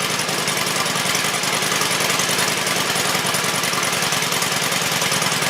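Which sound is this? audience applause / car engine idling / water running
car engine idling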